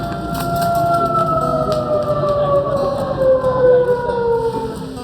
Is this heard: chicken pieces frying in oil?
no